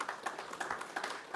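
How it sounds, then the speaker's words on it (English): An audience claps for the sponsors, Hinch Distillery of Ballynahinch, County Down, at a campfire gathering, with a short burst of steady, fairly close applause. "Give them a round of applause."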